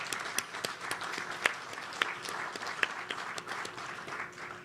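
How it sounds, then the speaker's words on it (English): An audience at an outdoor ribbon-cutting ceremony in Toledo applauds, a dense wash of clapping with a few louder individual claps, steady and moderately close for several seconds. "Let's applaud ourselves for that."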